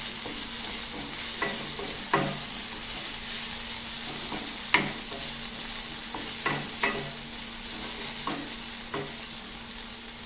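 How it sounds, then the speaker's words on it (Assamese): Okra and tomato fry in a pan on the stove, giving a steady soft sizzle under repeated scraping and stirring strokes from a utensil, close and moderately loud, with no voices. "ভাজি প্ৰায় হ'বলৈ হৈছে। ধুনীয়া ধুনীয়া গোন্ধাইছে অলৰেডি ভেন্দি ভাজি"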